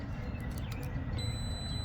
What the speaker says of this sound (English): it should start beeping as soon as we touch them